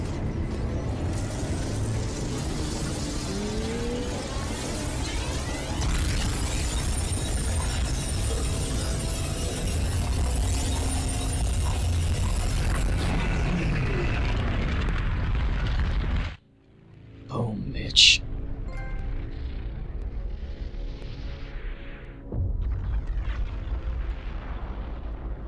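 A huge explosion in the video game Crysis 3 roars as a loud, sustained blast with rumbling debris, then cuts out abruptly and gives way to quieter game sounds.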